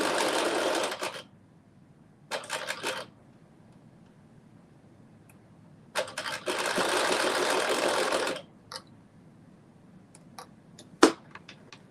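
A sewing machine stitches zigzag on a maxi dress in several bursts, a fast buzzing whir lasting one to two seconds each, with quiet pauses, small clicks and a sharp knock near the end.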